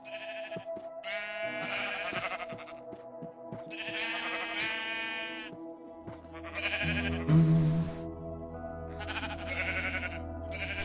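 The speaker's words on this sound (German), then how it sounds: "Und wir können wieder ein paar Schafe füttern." Sheep in the video game Minecraft bleat repeatedly, several distinct wavering bleats spaced across the span over a steady tonal game background, with a brief noisy burst midway; no one speaks.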